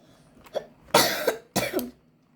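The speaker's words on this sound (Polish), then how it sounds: "Ten kaszel." One faint cough, then two harsh, loud coughs close to the microphone, followed by silence. No speech.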